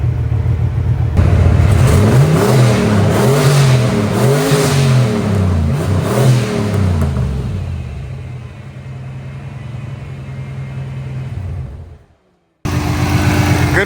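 Turbocharged GT40 Mustang making 500 horsepower on a stock bottom end, with a Borla Pro XS exhaust and a slight exhaust leak, revving loudly and close in several rising and falling sweeps before settling to a steady idle that abruptly cuts out, then returns.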